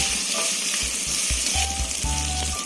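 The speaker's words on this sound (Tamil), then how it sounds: "இப்போ கருவாடையும் போட்டு வெங்காயத்தோடு நல்லா வதக்கிக்கோங்க" Dried fish sautéing with onions in a hot pan makes a dense, steady sizzle close by, with repeated low scraping and stirring strokes on the pan throughout.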